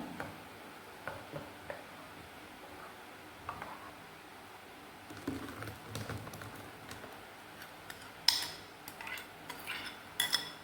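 Egg vattalappam batter being stirred and mixed in a bowl, with soft irregular taps and clinks of a utensil against the vessel that grow busier and louder toward the end.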